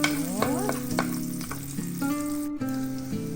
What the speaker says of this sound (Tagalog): Atin na igasa ang sibuyas.